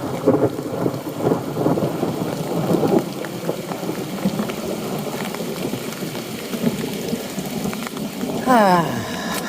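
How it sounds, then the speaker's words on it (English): Steady rain pours down on a hiking trail with rumbling thunder rolling through, a loud storm close by that swells again near the end. "Rain, thunder, and rocks."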